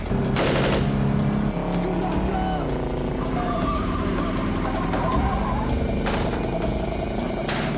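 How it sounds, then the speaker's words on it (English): Machine gun fire sprayed at a car from a van pulled alongside, a dense, continuous loud clatter over engine and road noise, with sharper bursts near the start and again toward the end. "they start machine gunning the car"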